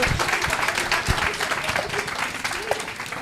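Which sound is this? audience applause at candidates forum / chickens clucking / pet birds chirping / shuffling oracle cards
audience applause at candidates forum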